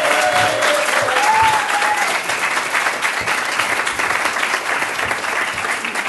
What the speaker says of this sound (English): but you can clap before that.